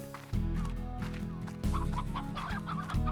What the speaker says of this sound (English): Let's grab this hen before it gets these carrots.